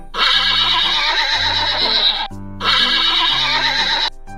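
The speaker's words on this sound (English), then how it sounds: "horse." A horse whinnies twice in quick succession, each neigh a loud, shrill, quavering call lasting nearly two seconds, close by and with nothing else heard.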